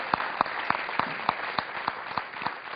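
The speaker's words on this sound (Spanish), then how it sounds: "para quien pido un aplauso" Applause from a studio audience honouring a doctor who rescued twenty children after an earthquake. The clapping is steady, with sharp, distinct claps repeating regularly over the crowd wash and no talk.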